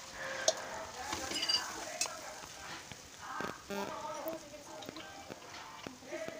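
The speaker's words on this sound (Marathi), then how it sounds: "तर तेल सुटेपर्यंत आपल्याला हे चांगलं भाजून घ्यायचं आहे" Spiced brinjal coated with chili, salt and cumin sizzles softly in oil in a pan while being stirred, with light scraping and tapping strokes over a steady low crackle.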